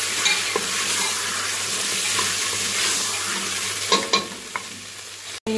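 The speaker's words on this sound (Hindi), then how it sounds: "अब हम इसमें ऐड करेंगे अपने कटे हुए आलू, ऐड कर लें, इन्हें भी अच्छी तरह से भून लें" Chopped potatoes fry with browned onions in a pan, giving a steady close sizzle with a few stirring scrapes and clinks near the end.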